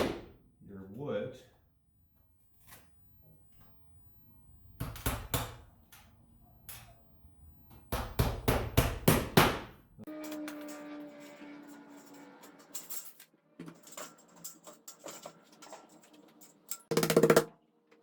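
Sharp hammer strikes in quick bursts, several rapid blows at a time with pauses between, nailing drywall to wood framing, close by with some knocking and handling sounds.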